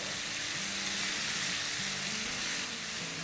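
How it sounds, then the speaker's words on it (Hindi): Garlic paste frying in a pan for a rajma makhani curry, a steady, fairly quiet sizzle with faint stirring scrapes underneath and no talking. "थर्टी 40 सेकेंड फ्राई करेंगे लहसुन को।"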